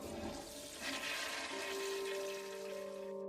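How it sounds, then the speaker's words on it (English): Close, loud toilet flush: a rushing surge of water swells and then settles into a steady refilling hiss with a faint tonal whine. "She suddenly froze when she heard the sound of a flushing toilet."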